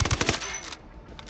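Rapid automatic gunfire in Ghost Recon Wildlands: a quick close burst of several sharp shots, then a fading tail with a few scattered distant pops.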